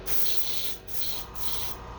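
Spray paint hisses in short pulses onto a fishing crankbait lure, three bursts with brief pauses, loud and close, no speech.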